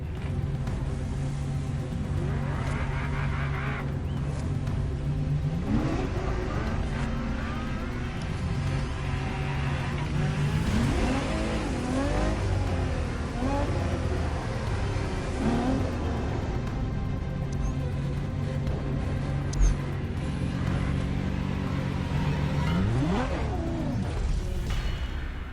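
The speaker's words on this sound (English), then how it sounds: "The car you're about to drive in this opening event is none other than the first Ferrari in the supercar bloodline, the Ferrari GTO" A Ferrari GTO engine in The Crew Motorfest drones steadily with rising and falling revs as it drives, a continuous rumbling tone under game music, with a voice talking over it at times.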